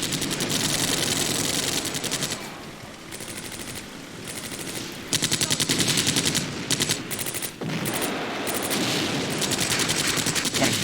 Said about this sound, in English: Vickers MG with this particular guy, and I think he's going to be able to lay down some pretty heavy fire